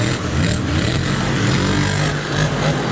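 A monster truck engine revs and strains while stuck in deep mud at a stadium show, a loud, continuous, rough roar with wavering pitch and no clear let-up.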